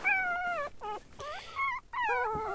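Pinscher puppy vocalizing inside a car, a close series of high, wavering whimpers and whiny yelps with short gaps between them.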